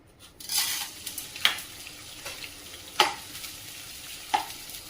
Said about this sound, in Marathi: हा 100 ग्रॅम मी डिंक घेतलेला आहे आणि तो प्रथम आपण तळून घेऊया